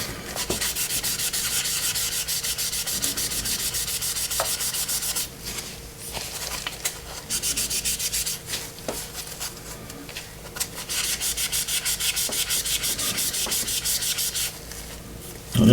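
Continuous scratchy sanding rubs back and forth on a small plastic part of a 1:72 Airfix BAE Hawk model kit near a decal, close up and steady with brief pauses, no talking.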